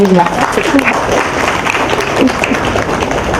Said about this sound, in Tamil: இளைஞர்களுக்கு ஒரு கைத்தட்டல் கொடுக்கலாம்.